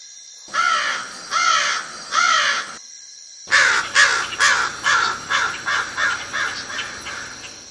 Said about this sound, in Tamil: காகம் கரையும்.